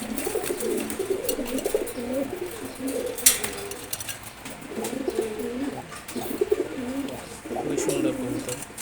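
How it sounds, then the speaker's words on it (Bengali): Several pigeons coo in low, rolling bursts that rise and fall in repeated phrases, close by, over a faint steady background. "খুবই সুন্দর কবুতর।"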